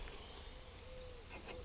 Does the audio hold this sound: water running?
no